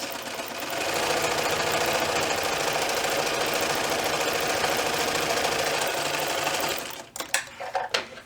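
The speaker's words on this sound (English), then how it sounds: "I'm going to put one on top of the other, and I'm just going to stitch this seam right here." A sewing machine runs steadily for about six seconds, stitching a short fabric seam with backstitching at each end, loud and alone, then stops into a few brief clicks and handling knocks.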